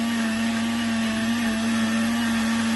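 A Zepline ZP-068 countertop blender runs at a steady, high-pitched motor whine, loud and close, holding an even drone throughout with no talk.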